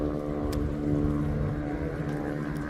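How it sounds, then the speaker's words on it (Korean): A motorcycle passing through a village gives a loud, continuous engine drone with a strong tonal hum, holding steady and close for the whole stretch, with no voices. "저 오토바이 한번 보세요."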